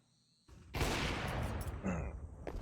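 Gunfire erupts in a Counter-Strike match, a quiet lull broken by a sudden burst of loud rapid shots that continues as a dense fusillade with brief swells and dips.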